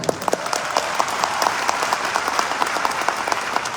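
An audience at a Bihar celebration event claps steadily for several seconds, a dense wash of applause with individual sharp claps standing out near the start.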